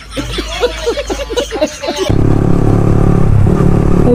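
On a road, a bhatbhati, a locally built motorized vehicle, runs its engine at close range as a loud, steady rumble. Voices and laughter are heard just before the engine starts up.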